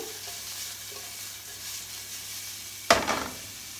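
Prawns fry in a pan under a steady, soft sizzle, with a brief, louder burst of crackle and stirring near the end.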